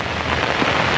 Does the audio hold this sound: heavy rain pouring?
yes